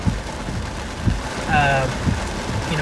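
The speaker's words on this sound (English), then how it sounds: "this is just a good fashioned, strong thunderstorm" Steady rain from a strong Arkansas thunderstorm hisses without a break, with a low rumble underneath and a brief higher tone partway through.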